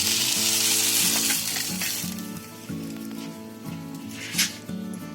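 Masala being dry-roasted in a pan gives a continuous close sizzle with stirring scrapes, while a low, rhythmic tonal pattern runs underneath.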